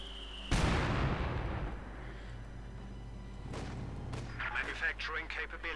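A mine blast in Company of Heroes 2 wipes out an infantry grenadier squad: a sudden heavy boom with a long rumbling decay, followed by scattered gunfire and battle clatter in the background.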